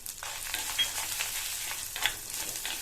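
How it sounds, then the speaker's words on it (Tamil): Lentils, garlic, dried red chillies and a small piece of tamarind fry together in a pan for a chutney, giving a steady close sizzle with light stirring scrapes and no talk. "எல்லாத்தையும் வறுத்துக்கலாம் இந்த மாதிரி வறுத்துட்டோம்னா பருப்பு வந்து இனி அடுத்து வந்து பொன்னிறமாக வந்துடும்"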